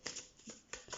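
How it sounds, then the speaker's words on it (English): A deck of cards being shuffled by hand, crisp riffling bursts in three or four quick close rounds with brief pauses between, alone and fairly quiet. "Just shuffle them up."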